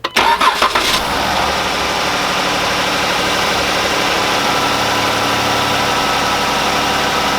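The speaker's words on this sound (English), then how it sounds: "So let's start the car." A Dodge Durango V6 engine with a K&N intake cranks briefly, catches and fires up, then settles into a steady, loud idle that continues to the end.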